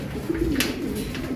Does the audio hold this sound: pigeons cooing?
yes